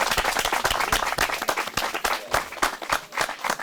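A live audience claps together in a burst of close, dense applause with sharp individual hand claps, steady throughout with no talking over it.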